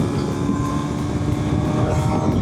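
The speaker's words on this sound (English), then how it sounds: "the way this motorcycle sounds is just crazy" Hero Xpulse 210 motorcycle engine droning steadily while riding, a dense close rumble blended with heavy wind buffeting, continuous with no pauses.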